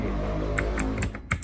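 Typing an IP address on a computer keyboard while configuring static routing, a quick run of close, distinct key clicks over a steady background hum.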